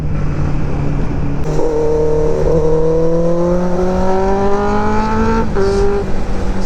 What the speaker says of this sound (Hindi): चलो आप लोग इनलाइन 4 का आवाज सुन के ही मजा लो आप लोग